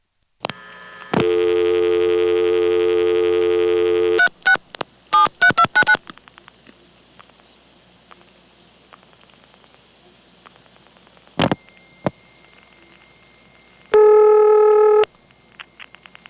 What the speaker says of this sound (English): Here's a call to the soup test in the IBM Centrex.